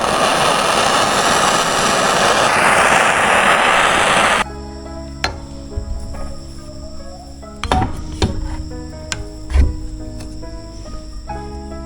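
A torch heats a Kawasaki KX250 two-stroke engine case so a crankshaft can be fitted. A loud, steady roaring hiss cuts off abruptly and is followed by scattered close metallic clanks and knocks.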